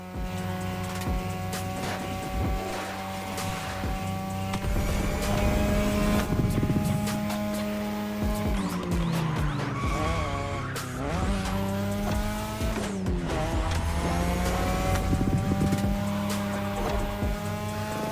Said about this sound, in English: Tonight your ride is a 3rd Gen 2002 Mazda RX-7. Lightweight, compact, a sick rotary engine